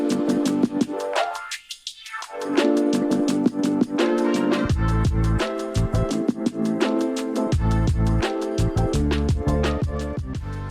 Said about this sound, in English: right here I've got a high-pass filter loaded